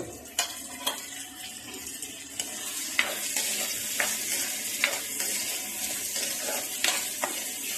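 Dried chillies, ginger, garlic, curry leaves and coconut sautéing in hot oil for crab curry, a steady broad sizzle with repeated scraping and clinking strokes of a spoon against the pan.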